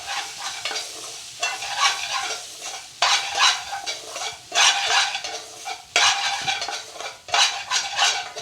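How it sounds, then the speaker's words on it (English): Cumin and red Kashmiri chili powder frying in a pan, with a loud, steady sizzle. A utensil stirs and scrapes through it in repeated sweeps, and several pauses break up the stirring. "we just want to literally just fry the rawness of those spices off for literally just 45 seconds"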